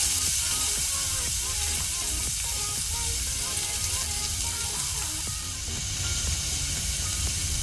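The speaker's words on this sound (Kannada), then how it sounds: "ಇದನ್ನೀಗ ಲೋ ಫ್ಲೇಮಲ್ಲಿ ಸ್ವಲ್ಪ ಫ್ರೈ ಮಾಡುವ" Dried red chili pieces fry in oil on a low flame in a pan for sambar, giving a steady soft sizzle and hiss throughout, with faint clinks and no voice over it.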